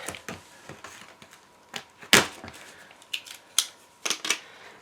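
Damp proof floor membrane being cut at a joint during installation of a remedial damp proof course, a series of quiet, sharp snipping and crinkling sounds in irregular bursts, close by, with no talk.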